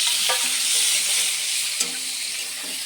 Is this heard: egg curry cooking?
yes